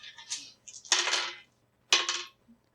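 Dice clatter on a table during a tabletop game, two quick bursts of rattling and a short final tap, close and alone with no talk.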